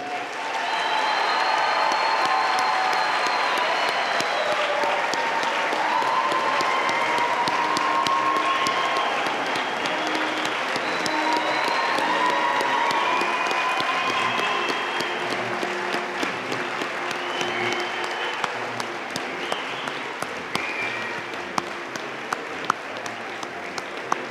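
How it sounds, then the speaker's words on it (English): A large crowd at a university commencement applauds the graduating class steadily and loudly, the clapping holding for a long stretch before thinning into scattered claps near the end. "Let's have a final applause for the class of 2017."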